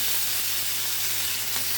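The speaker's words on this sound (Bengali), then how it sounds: "এগুলো একটু ভেজে নিয়ে আসছি আমি।" Hilsa fish head and tail frying in oil, a dense continuous hiss of sizzling, close and steady, with a low electrical hum beneath and no talk.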